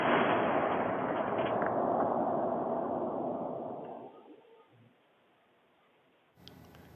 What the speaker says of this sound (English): This is very close to the plant as that explosion was happening.